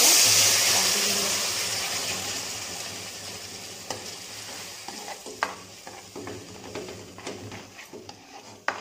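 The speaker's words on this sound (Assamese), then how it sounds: "এতিয়া মই ঘিউ 1 চামুচ দি দিছোঁ ইয়াতে আৰু অমিতাখিনি মই ইয়াতে কাটি দিলোঁ" Chopped papaya cooks in a spoonful of ghee in a pan, with a bright sizzle that fades gradually, then scattered clinks and scrapes of stirring.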